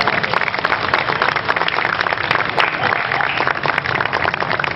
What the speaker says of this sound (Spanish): Que se escuche más fuerte el aplauso